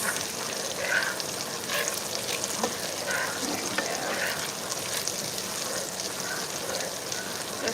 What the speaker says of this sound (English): So what you want is to let the garlic kind of cook down and glaze a little.